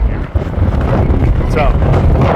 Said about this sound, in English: you can see that it's getting really windy.